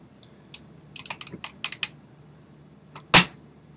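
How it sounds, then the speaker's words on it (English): Lee Enfield .303 rifle being worked: a run of light metallic clicks and clacks from the safety lever and bolt, then one sharp, loud clack near the end, close up with no talking. "the 303 Enfields have a safety lever"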